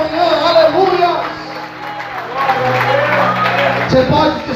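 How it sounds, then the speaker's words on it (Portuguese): A church congregation applauds during a morning service, with steady clapping from many hands running throughout alongside sustained music and voices. "Quantos podem aplaudir o Senhor e exaltar a Deus nessa manhã?"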